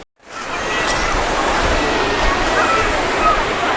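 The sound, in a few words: waterfall flowing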